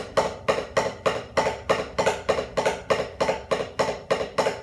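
Snare drum double strokes repeat in a steady stream of evenly spaced paired hits, close and fairly loud, with slightly uneven accents between the pairs.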